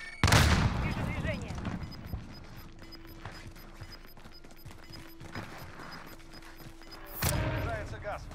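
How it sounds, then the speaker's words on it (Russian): Grenade thrown in the video game Warzone: a loud burst opens, then a quieter stretch of muffled combat noise, and a second loud blast lands near the end. "Бросаю гранату."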